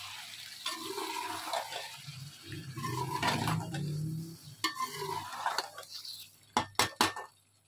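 Gobi gosht, cauliflower and meat, being mixed in a cooking pot: wet, squelching stirring and scraping, then a few sharp metallic clinks of the spoon against the pot near the end.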